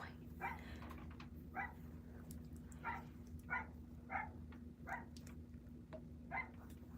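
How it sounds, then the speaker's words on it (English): A dog barks repeatedly outdoors, sharp evenly spaced yaps at a distance over a steady low background hum, with no talking. "that dog is so annoying."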